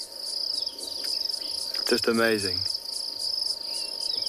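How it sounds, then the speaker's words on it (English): A grasshopper in the bush at sunset buzzes by rubbing its serrated legs against its body, a steady, high, insistent drone that runs through the whole clip while someone briefly speaks in the middle. "And that is the way that this grasshopper makes that sound, that buzzing sound."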